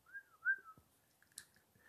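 A person whistles a short tune alone, clear sliding notes at first followed by quieter broken tones and faint mouth noises.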